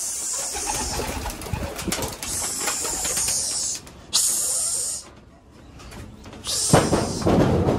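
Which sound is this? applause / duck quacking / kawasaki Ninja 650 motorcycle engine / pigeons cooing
pigeons cooing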